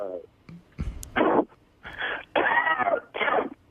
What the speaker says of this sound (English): What is this coughing thing?